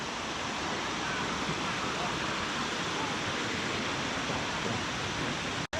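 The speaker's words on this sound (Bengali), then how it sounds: "আমরা চলে আসছি আমাদের তিন নম্বর ঝর্ণার কাছে এটা হচ্ছে ছোট ঝর্ণা এই ঝর্ণাটার নাম হচ্ছে বাঘ বিয়ানি ঝর্ণা" Bagh Biyani, a small waterfall at Napittachora in Sitakunda, pours with a constant broadband rush of falling water close by, even and unbroken until a brief dropout at the very end.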